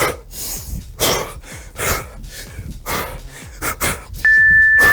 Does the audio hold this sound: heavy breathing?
yes